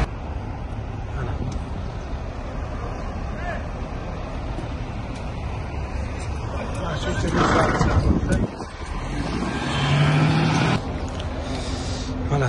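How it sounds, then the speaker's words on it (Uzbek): A Tashkent-to-Russia coach bus pulling away, its engine rumble and road noise building steadily with a louder surge after a brief dip, heard amid background voices. "Mana shu avtobusimiz hozir ketyapti."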